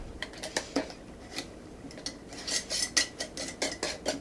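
A lid is twisted onto a glass jar of cooling mint jelly, with a run of quick close clicks and light metallic scrapes that grow busier toward the end. No voices.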